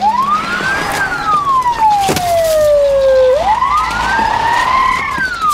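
A loud police car siren wails in long rising and falling sweeps, close and steady for several seconds with traffic rumble underneath.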